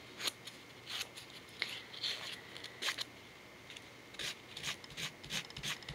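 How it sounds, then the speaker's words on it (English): A nail file rasps across right-hand fingernails in short, quiet scraping strokes, roughly nine bursts spread unevenly, close and soft with no talking. "I am right-handed, so usually this is how I file my right hand"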